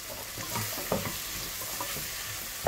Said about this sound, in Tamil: இது நல்லா கொஞ்சம் நேரம் வதங்கட்டும்.